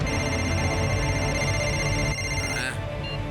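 A telephone rings loudly with a continuous electronic trill of bright, buzzing tones that cuts off with a brief swoop near the end, no voices over it.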